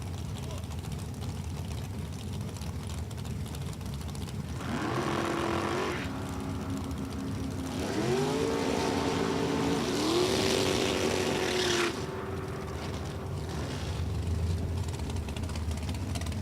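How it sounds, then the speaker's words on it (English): A Dart-engined drag racing car at National Trail Raceway roars past with a rising engine note that sweeps up and holds high, then fades, set against steady track ambience. "It's a Dart engine for Zinda."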